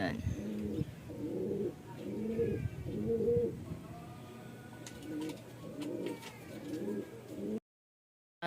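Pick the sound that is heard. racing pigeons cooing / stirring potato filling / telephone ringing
racing pigeons cooing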